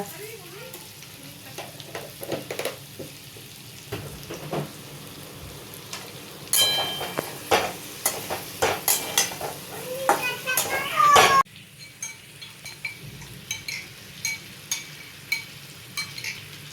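Potatoes for Kashmiri aloo dum stir-fried in a yogurt-based spice paste: repeated spatula strokes scrape and clatter through a steady sizzle, nearby and fairly loud, with a brief louder burst of stirring midway.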